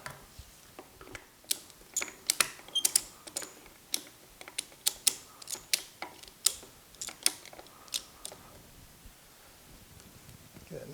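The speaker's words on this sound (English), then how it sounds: "I'm just going to use these ordinary ratchet clamps" Ordinary ratchet clamps are cranked tight on a dining table bench leg being glued back on, giving a series of sharp, close ticking clicks in irregular bursts with brief pauses.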